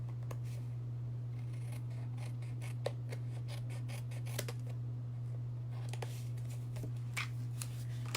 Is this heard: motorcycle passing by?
no